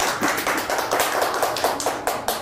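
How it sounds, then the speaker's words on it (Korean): Audience at a citizens' policy forum claps to welcome a presenter, a small group producing sharp, fairly close rhythmic claps at a steady pace. "박수로 시작하겠습니다."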